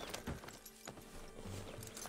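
Horse hooves clip-clop in Red Dead Redemption 2, faint and rhythmic over a quiet in-game background; no one speaks.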